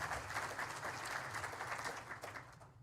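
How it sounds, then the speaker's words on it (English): Audience applause at a State of the City address in Midland, a steady, moderately distant wash of many hands clapping that holds evenly before tapering off near the end. "I think you should applaud that, frankly."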